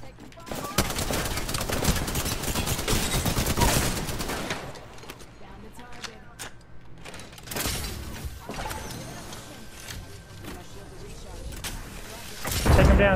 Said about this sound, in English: I hear somebody shooting at somebody.